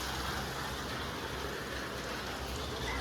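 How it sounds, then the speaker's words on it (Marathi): Steady heavy rain hisses without a break, a dense, even wash of noise with no voices. "खूप पाऊस पडतोय कोणाला घराच्या बाहेर निघून देत नाही"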